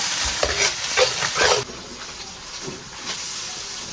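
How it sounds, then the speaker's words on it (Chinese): Pork intestines stir-fried in a wok with a spoonful of bean paste and a block of hotpot base, a steady broadband sizzle with bursts of stirring and scraping early on, then a calmer hiss, no voices. "加入肥肠，煸炒一下， 一勺豆瓣酱，一块火锅底料，炒香炒滑，炒出红油"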